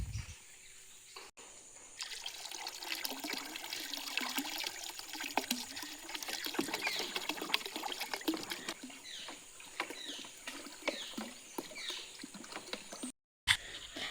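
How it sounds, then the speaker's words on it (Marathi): Buttermilk pours into a 200-litre drum filled with water, a steady splashing, trickling flow lasting most of the clip, close and fairly even, with no talk over it. "आता हे 2 लिटर ताक आपण या पाण्यात मिसळणार आहोत."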